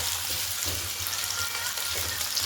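Potatoes fry in a pan with black cumin seeds, a steady broadband sizzle running evenly throughout with a faint low hum beneath, no voices present.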